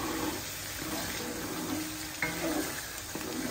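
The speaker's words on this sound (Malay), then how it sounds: "Jadi kita nak tumis dulu" Blended sambal goreng ingredients sizzle steadily in hot oil as they are sautéed, a soft continuous frying hiss with occasional stirring scrapes and no talk.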